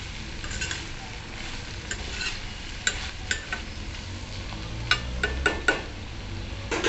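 Val papdi beans are stirred in a pan over a steady sizzle, with a spoon clinking and scraping against the metal now and then, close and fairly loud.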